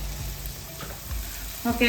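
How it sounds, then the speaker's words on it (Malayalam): Sliced onions sauté in a pan for a chicken curry, a steady close sizzle and crackle with a brief stirring scrape near the end. "സവാള ഉള്ളി ഒന്ന് വഴന്ന് വരട്ടെ"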